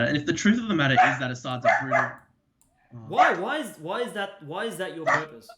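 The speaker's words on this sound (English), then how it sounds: "Sorry about the dog." A dog barks repeatedly indoors during a conversation, several loud, close barks and yips that overlap and interrupt two people talking.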